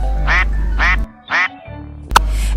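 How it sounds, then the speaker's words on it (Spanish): A duck quacks in three loud, evenly spaced bursts of nasal calls, followed after a pause by a sharp, brief squawk. "¿Quieren saber cómo hace un pato?"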